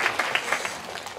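A church youth gathering gives a short burst of applause, with scattered hand claps that thin out quickly.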